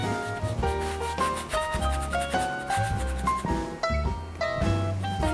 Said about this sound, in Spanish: Esa fricción, ese ruido que escuchan, es justamente la fricción que hace el pincel contra la tela.